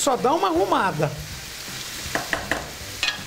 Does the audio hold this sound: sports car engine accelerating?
no